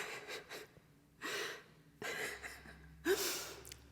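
A person imitates a surprised gasp, giving a few short sharp breaths and snorts up close, with the loudest intake near the end.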